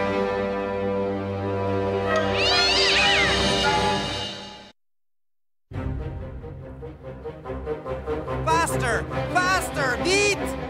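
A cartoon cat gives long, wavering, drawn-out meows, loud and close, then after a short silence breaks into a rapid series of shorter rising yowls over a busy animated background.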